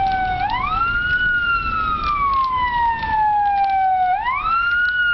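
A Ford Ranger N24 Plus fire engine in Bucharest sounds its siren, a loud wailing tone that rises, slowly falls and rises again, close and steady with no speech.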